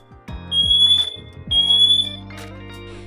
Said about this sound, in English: press and hold the test button on any alarm. If all alarms sound together